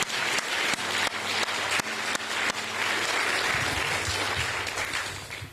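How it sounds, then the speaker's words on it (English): An awards-evening audience at a farmer of the year event applauds a doctor, producing steady, full-room clapping that holds at an even level throughout with a few sharper individual claps standing out. "give her a huge applause for taking us outside our comfort zone"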